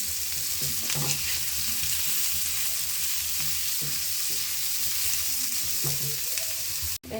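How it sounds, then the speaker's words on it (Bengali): Onions fry in hot oil in a pan just used for frying fish, a steady close hiss of sizzling with occasional stirring scrapes and no voices. "মাছটা ভাজি করে এখন পেঁয়াজ ভাজি করে ভুনা করবো"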